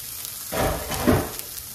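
Garlic and jalapeno hit a reused hot pan and sizzle loudly, a burst of frying that swells at the start and rises again near the end, with no talking.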